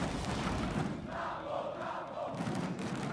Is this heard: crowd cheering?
yes